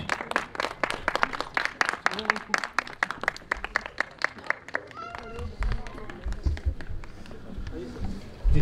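A burst of audience clapping at a theatre academy stage event's lamp-lighting ceremony, quick overlapping claps that thin out into general crowd noise and voices.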